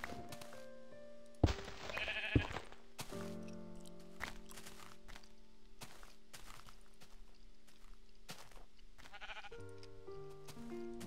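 Sheep in the Minecraft video game give two quick bleats close by, among soft block clicks and footstep sounds, then scattered game noises continue.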